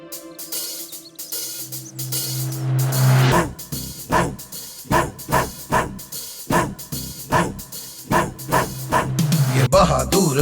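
An animated cartoon guard dog barks a rapid series of roughly a dozen loud, evenly spaced bow-wows, opening over music and talk that fade as the barking takes over.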